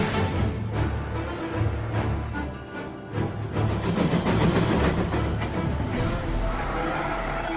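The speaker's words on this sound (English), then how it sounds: "He's trying to beat the train!" A train rolls past in the video game Mafia, a loud continuous rumble and clatter with hiss and rattling throughout, swelling toward the end, heard alone without speech.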